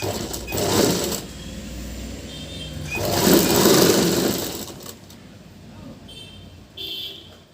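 A sewing machine stitches a blouse seam in short, close bursts, pausing between runs, with fabric handling and small clicks in between.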